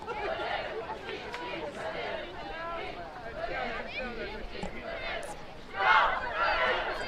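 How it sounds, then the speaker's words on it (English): A crowd of Guerin Catholic fans and JV players cheers at a girls' high school soccer game, a steady distant chatter and babble swelling into a louder burst of cheering near the end. "You can hear the Guerin Catholic faithful, and it looks like some of their JV players cheering on their girls"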